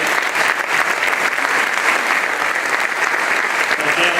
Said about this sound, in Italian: Quindi il più grande applauso da loro